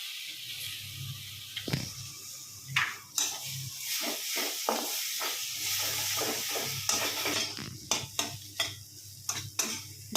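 Egg cracked into a hot pan with chenna karuvadu dried fish, giving a low, steady sizzle broken by scattered sharp clicks and scrapes from stirring.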